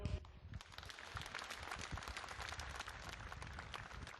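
Faint, scattered hand clapping from a crowd outdoors at a peaceful protest in Treviso, Italy, uneven and sparse, heard at a distance.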